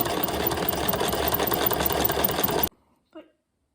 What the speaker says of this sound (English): I just sewed a curve and that was not difficult